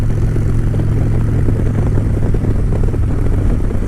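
A 2013 Harley-Davidson Dyna Fat Bob with a 103 engine rumbles steadily and loudly, a deep continuous throb with no pauses, heard close with wind noise on an Ohio ride.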